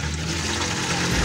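Floodwater pours out of a flood-damaged car's transmission as it drains, a steady splashing gush of liquid at close range, alone without talk.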